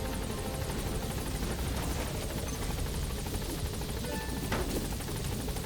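Helicopter rotor from Metal Gear Solid V: The Phantom Pain whirs as a steady, dense drone, constant in loudness throughout with no talk over it.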